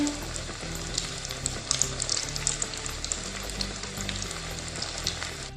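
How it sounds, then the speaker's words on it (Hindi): Smiley potato snacks deep frying in hot oil, a steady dense crackling sizzle with bright spitting pops throughout, fairly close and continuous with no talking. "यहाँ पे हमने इनको डीप फ्राई करके निकाल लेना है।"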